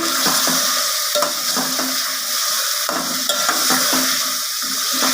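Chicken masala stirred in a pan after chili, turmeric and salt go in, a steady sizzle running under repeated scraping strokes of a spoon against the metal, close and fairly loud.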